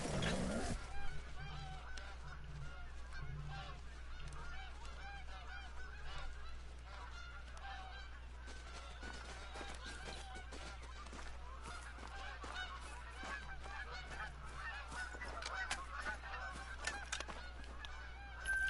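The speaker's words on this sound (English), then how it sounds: "Just geese everywhere." Geese honk in a whitetail deer hunting video game, a dense flock calling over and over at a distance throughout, quiet but continuous with no talk.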